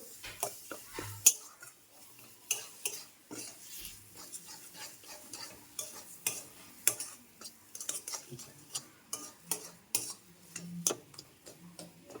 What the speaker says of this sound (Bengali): দুটো আলু আমি সেদ্ধ করে আলুগুলো আমি মশলার সাথে মাখিয়ে নেব